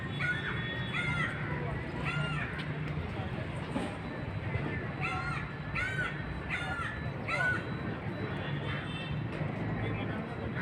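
Moorhens and other water birds at Gavdevi lake in Juchandra give repeated harsh, honking calls in scattered bursts over a steady outdoor background.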